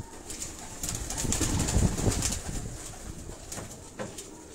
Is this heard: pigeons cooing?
yes